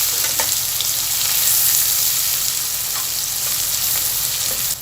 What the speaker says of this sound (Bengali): এখন আমি এতে 1 কাপ পরিমাণ পেঁয়াজের কুচি দিয়ে দিচ্ছি।